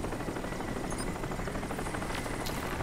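Helicopter in the video game Crysis: a steady, loud rotor drone with a dense low thrum and a broad engine hiss, continuous and unbroken throughout.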